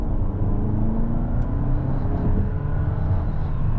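A 2022 Kia Sorento SX with a turbocharged four-cylinder engine produces a steady low drone heard from inside the cabin, with road rumble underneath and no distinct rise in revs.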